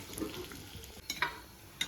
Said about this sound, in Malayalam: കുറച്ച് കുറച്ചായിട്ട് ഇട്ടിട്ട് ഒന്ന് വറുത്തെടുക്കാം നല്ല കരുകരുപ്പായിട്ട് വറുത്തെടുക്കണം